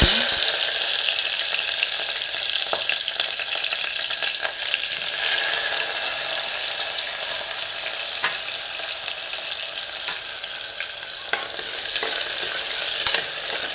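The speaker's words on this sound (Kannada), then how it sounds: "ಈಗ ಆಯಿಲ್ ಆಗಿದೆಲ್ಲ ಈರುಳ್ಳಿ ಹಾಕ್ಕೊಂತೀನಿ" Onions frying in hot oil while being stirred in a pan for a brinjal, potato and tomato palya, a steady close sizzle with scraping stir strokes throughout and no talk.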